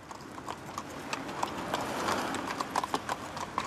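Hooves of police horses from a mounted police unit clip-clop at a steady walking rhythm, close and fairly quiet, with no talk over them.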